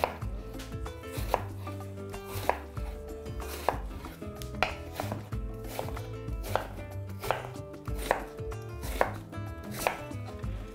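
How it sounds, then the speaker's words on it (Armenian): A knife chops a tart, crisp apple into cubes on a board during home cooking, with sharp, evenly paced cuts repeating close up alongside a faint kitchen background. "խնձորը կտրատում ենք խորանարդիկների"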